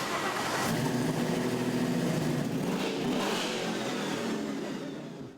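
A Ford Bronco engine turns over and catches, then settles into a loud, rumbling idle that holds steady before fading a little at the end.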